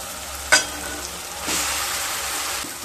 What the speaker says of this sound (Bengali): সমস্ত উপকরণ যখন খুব ভালো মতো ভাজা ভাজা হয়ে আসবে